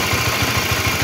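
A Honda CB series motorcycle engine idling with a rough knocking fault, a close, even, rapid clatter of regular low thumps, with no voices.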